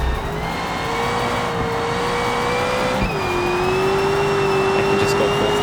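Simulated car engine held at full throttle in BeamNG, a loud sustained drone with a steady pitch that dips briefly and then holds, no gear shift, no talk.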